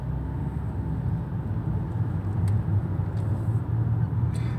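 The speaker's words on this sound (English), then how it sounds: "And we are driving home." A car cruises along Sunset Boulevard in Hollywood, California, with a steady low engine and road rumble heard from inside the cabin, faint and continuous, with a few light clicks and no talking.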